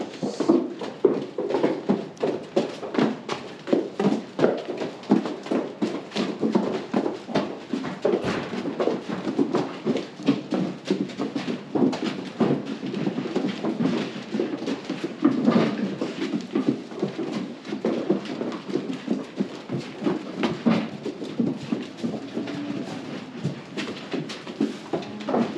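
Several horses walk into a barn, their hooves clip-clopping in a dense, continuous, overlapping rhythm close by on a hard floor throughout.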